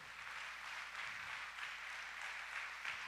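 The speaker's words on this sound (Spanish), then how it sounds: "¿Por qué no le damos un fuerte aplauso a nuestro Dios?" A church congregation applauds during a sermon, a faint, distant wash of steady clapping blended into room noise.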